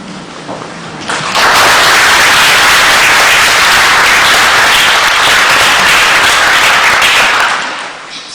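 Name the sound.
audience applause after a poem at a poetry reading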